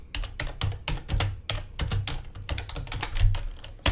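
Keys clatter on a computer keyboard in a fast, steady flurry of close clicks while code is typed, with no voice over them.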